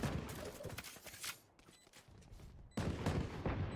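Rapid gunfire from the Sheriff hand cannon and other weapons in a Valorant esports match, loud sharp shots in bursts, a short lull, then another dense volley.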